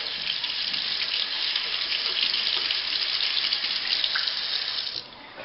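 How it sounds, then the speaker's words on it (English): Tap water runs steadily in a sink, rinsing tomato seeds clean of goop, a continuous near hiss that holds level for about five seconds before dropping off, with no talking. "Just going to run them under some water."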